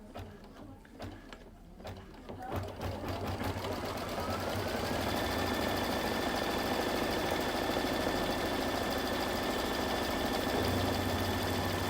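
A Kimberbell embroidery machine stitches a channel quilting grid on a fabric mug rug, a steady, close mechanical whirr with a rapid needle rhythm and a rising motor tone that settles into an even hum, with no talk.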